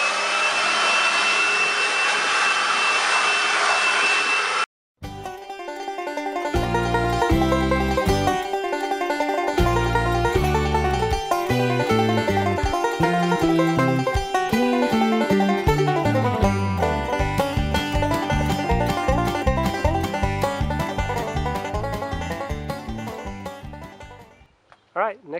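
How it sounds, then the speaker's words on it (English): A Craftsman 4-in-1 yard vacuum, chipper and blower running as a leaf blower to clear dust: a steady, loud whooshing roar for about five seconds, then it cuts off and music plays for the rest. "I've got the weed blower, or the leaf blower hooked up, and we're going to blow some of the dust off this thing."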